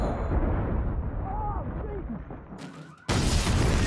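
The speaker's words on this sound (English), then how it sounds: "they're trying to throw a pipe bomb" A pipe bomb goes off in a dramatic street scene, a sudden loud blast cutting in near the end after a stretch of tense rumble and a brief hush, the noise sustained and full right to the close.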